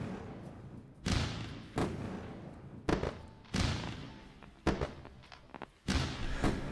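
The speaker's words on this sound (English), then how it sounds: "Fireworks time." Fireworks sound effect played during a livestream: a series of heavy booming bursts, about six in quick irregular succession, each loud and sudden and trailing off into a rumbling decay.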